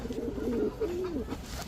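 Giribaz pigeons cooing at a market stall: soft, low warbling coos, a couple of rolling phrases close by under faint background noise.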